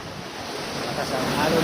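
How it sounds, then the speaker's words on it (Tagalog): Strong sea waves at night wash and roar continuously around a small fishing spot under moonlight, a steady broad rush mixed with wind buffeting the microphone. "Lakas ang alon yan."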